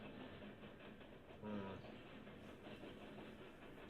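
A freight train rolls past on the rails, a steady continuous rumble with faint clattering, heard from trackside at moderate distance with no talk over it.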